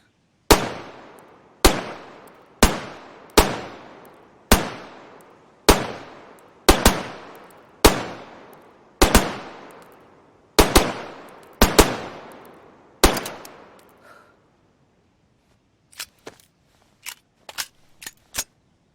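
Pistol shots from the police-issue handgun in DayZ, about a dozen loud single reports at a steady, roughly one-per-second pace, each trailing a short decay. A few sharper, quieter clicks follow after a brief pause.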